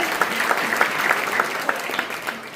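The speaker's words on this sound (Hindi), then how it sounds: "तो एक बार जोरदार तालियां लावण्या के लिए।" An audience at a Jain quiz show gives a student a round of applause, a steady patter of many hands clapping at moderate loudness with a few distinct claps standing out and no talking.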